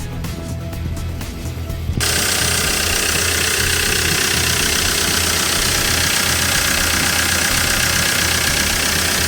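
A 2008 Hyundai Porter II diesel truck with a manual transmission starts up, then settles into a loud, steady, close-up idle with a rough diesel clatter that continues to the end.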